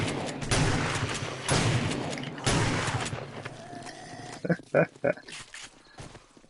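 Shotgun fire against zombie hordes in the survival video game 7 Days to Die. Several loud, separate blasts come early, followed by a cluster of sharper sharp reports near the end, with quieter game noise between them.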